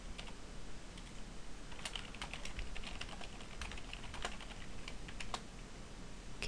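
Typing on a computer keyboard comes through as scattered, fairly faint key clicks in irregular bursts over a steady hiss of background noise, as a username and password are entered.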